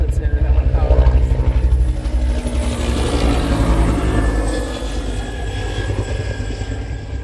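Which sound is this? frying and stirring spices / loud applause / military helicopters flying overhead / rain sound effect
military helicopters flying overhead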